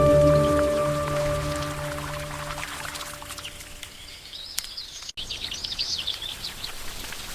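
Rain patters steadily onto surfaces nearby in a miniature village setting, with a tonal hum fading out early and birds chirping faintly later on.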